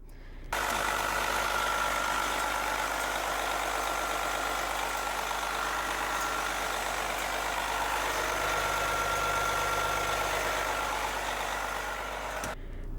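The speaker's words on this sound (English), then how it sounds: "turn the key. You can hear it crank up" The diesel engine of a 1996 Prevost Country Coach motorhome cranks briefly, then settles into a steady, loud idle with a constant low rumble and a faint whine that runs on unchanged.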